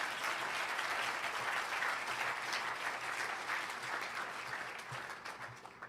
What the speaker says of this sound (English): You can clap at that.